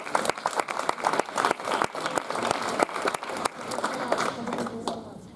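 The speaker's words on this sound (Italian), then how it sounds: "quindi un applauso anche alla Proloco." Audience applause at an outdoor summer poetry festival in Bulzi, a dense wash of many hands clapping steadily for several seconds, loud and sustained with a faint voice underneath near the end.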